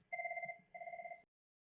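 A telephone rings on a PSTN call placed through a CUCME phone system, giving two clear, evenly spaced electronic ring bursts with no talking.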